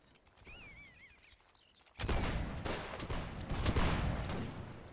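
Musket volleys in Mount and Blade Warband erupt suddenly after a quiet stretch with a faint whistle, becoming a loud, sustained crackle of many overlapping shots on a battlefield.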